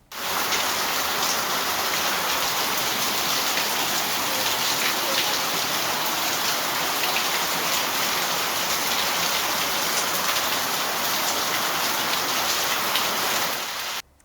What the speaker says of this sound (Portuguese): Choveu também na Fazenda Itália, em Faxinal, no Paraná.